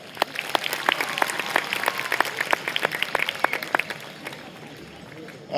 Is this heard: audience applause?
yes